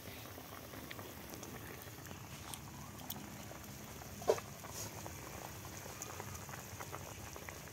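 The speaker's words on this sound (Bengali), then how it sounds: "তরকারি ফুটে গেছে" A covered pot of curry with taro leaves simmers at a low, even boil, giving a faint, steady bubbling with one small pop partway through.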